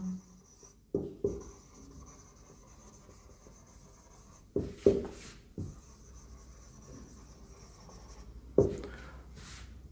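Marker or chalk writing on a board during a physics lesson on errors and measurements: several short, close scraping strokes in separate bursts, with a faint steady background hum and no talk over them.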